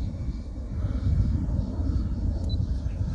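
A Freewing Messerschmitt Me-262 V2 RC jet with twin 70mm electric ducted fans cruises at half throttle, giving a steady, moderately loud whooshing drone with no break across the stretch.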